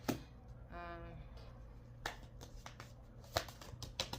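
Tarot cards being shuffled, with a few sharp snaps and flicks and then a cluster of quick riffling slaps toward the end, close and crisp, plus a brief tonal chime early on.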